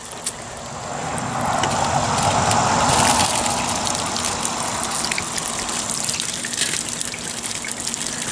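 Water gushing steadily from a plastic water jug holed by a .22 bullet, a loud continuous outdoor splash and pour that swells then settles, with no talk.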